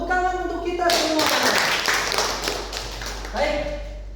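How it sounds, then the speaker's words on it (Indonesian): A secondary-school class in an Islamic high school breaks into a loud burst of applause lasting a few seconds, with a teacher's voice heard before and after the clapping. "Tepuk tangan untuk kita semua"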